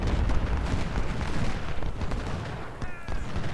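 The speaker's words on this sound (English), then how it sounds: "Down here, weak skirmishers are starting to open fire." Scattered rifle fire from skirmishers in an Ultimate General: Civil War battle at Malvern Hill, a dense rolling crackle of distant shots and low booms that continues without a break.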